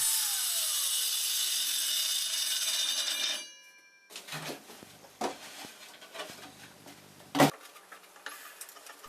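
A circular saw plunges through an MDF table with OSB scraps clamped down, a steady loud whining cut that stops abruptly, followed by scattered knocks and handling clatter.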